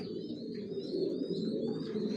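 Racing pigeons, Johnson red checker racers, coo in a loft: low, soft, continuous throaty cooing close by, with a few faint higher chirps above.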